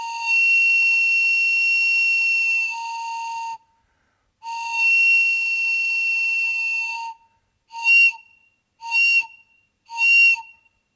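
A ceremonial whistle is blown loudly in two long sustained tones, then three short bursts, clear and piercing with silence between blasts and no voices.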